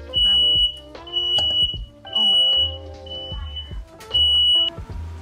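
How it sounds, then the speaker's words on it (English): A home smoke alarm goes off in loud, piercing beeps, repeating in long bursts with short gaps. Muffled kitchen clatter sits underneath. "My fire alarm just went off."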